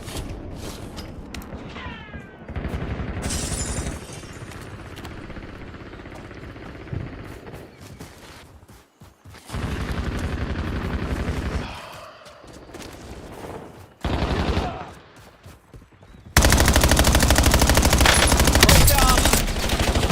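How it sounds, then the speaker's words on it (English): In a Call of Duty Warzone match, game gunfire crackles in bursts of rapid automatic shots mixed with single shots and mechanical clatter, rising and falling in loudness, with brief game voice callouts. "Incoming fire."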